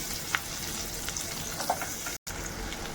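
Onion and garlic fry in a pan for a veg frankie filling, giving a steady close sizzle with a few light stirring scrapes and one brief gap of silence.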